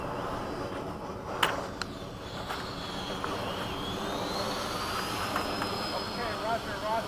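An FMS 80mm Hawk RC model jet taxis at the flying field, its small turbine-like whine steady and moderately faint under steady outdoor background noise, with a few brief clicks.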